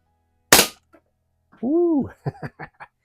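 An old Crosman Model 1 .22 caliber pump air rifle fires once in a garage, a sharp close crack that fades quickly, followed by a voice reacting.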